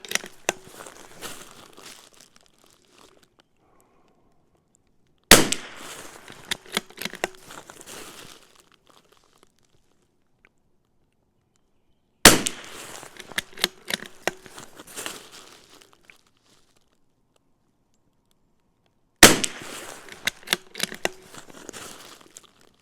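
A CZ 457 rifle fires four separate shots several seconds apart. Each is a sharp, loud crack followed by a rattling, fading tail, with quiet gaps between shots.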